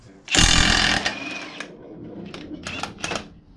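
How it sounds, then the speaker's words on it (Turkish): A loud burst of a pneumatic impact wrench loosening a bolt on a Honda PCX scooter, whirring for about half a second, followed by quieter rattling and a few short mechanical bursts. "turbo makinaya geçiyoruz"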